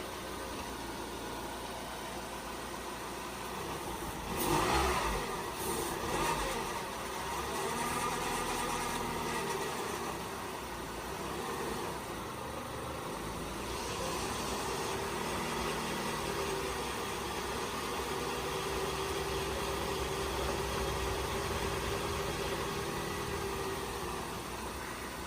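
Dodge Neon engine running and settling into a steady idle, a continuous low hum with a brief louder surge early on, then an even drone that holds without talk.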